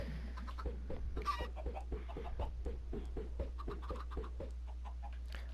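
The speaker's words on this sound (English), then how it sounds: "Look, there's 2 chickens out the first batch of 4." Minecraft chickens cluck in a quick, steady series of short, clipped calls, fairly close and alone over a constant low background hum, with a brief louder flutter near the start.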